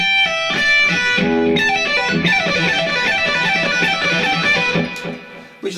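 An electric guitar with a slightly driven tone plays a descending blues lick, a run of rapid picked notes stepping downward, loud and close with no talking.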